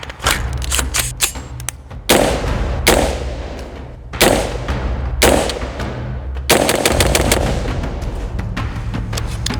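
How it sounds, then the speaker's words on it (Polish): A Stag Arms 15 Tactical SBR carbine with a 10.5-inch barrel fires at an outdoor shooting range: a quick cluster of cracks is followed by about half a dozen loud, close, booming shots spaced a second or so apart. "skoro już jesteśmy na strzelnicy, strzelimy sobie parę razy i zobaczymy, jakie są wrażenia"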